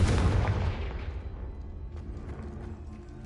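Confringo fire spell in Hogwarts Legacy: a single loud, booming blast that rolls off into a fading rumble and crackle over about three seconds, with no voice over it.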